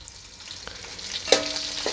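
Curry leaves dropped into hot oil with browned onions for a dried-fish tamarind curry, giving a sudden loud crackling sizzle partway through over a steady background fry, with some stirring.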